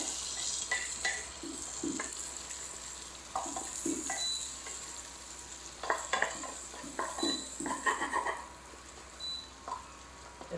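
A chili dropped into hot oil and fried, with spatula strokes scraping and clinking against the pan in irregular bursts over a low constant sizzle, close and fairly soft, no one speaking.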